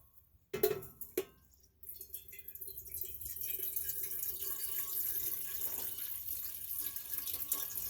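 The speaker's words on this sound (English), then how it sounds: "I'm getting water." Tap water running into a kitchen sink in a home kitchen, a couple of clunks as the faucet opens, then a steady moderate stream that continues to the end.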